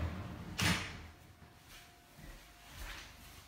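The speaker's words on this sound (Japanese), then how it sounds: "こちらは扉で、" An apartment door in a one-bedroom rental swings and latches with a single sharp knock near the start, followed by softer faint bumps and creaks, quiet and close with no talk.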